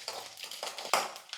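Mustard seeds sizzle in about two spoons of hot oil with chana dal and urad dal, crackling and popping up close in quick, irregular bursts with no talk.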